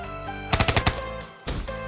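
Rapid burst of about five loud shotgun blasts from Black Ops 3 in quick succession, followed after a short gap by another blast with a ringing tail over a steady game music bed.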